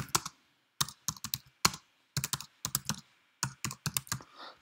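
A name is typed on a computer keyboard while a text box is filled in, coming as bursts of quick, close, crisp key clicks with short pauses between words and no voices.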